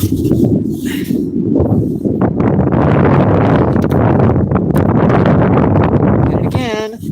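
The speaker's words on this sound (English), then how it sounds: "About that wind." Strong wind buffeting a microphone outdoors on a sunny fishing trip, loud continuous rumbling gusts with a faint voice partly buried under it.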